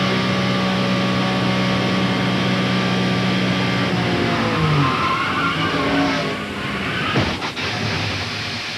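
An in-car view of a 1992 ARCA SuperCar Series stock race car at Talladega Superspeedway: a loud, steady engine drone that wavers and drops in pitch while heading into turn 3, with rattling and scraping near the end.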